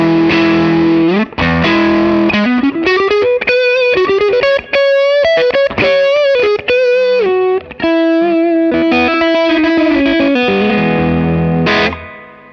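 Loud, gritty overdriven electric guitar through a Matchless HC-30 tube amp, reverb and delay before the amp's gain, playing a sustained melodic line with bent notes and choppy pauses, saturated and slightly washed with effects.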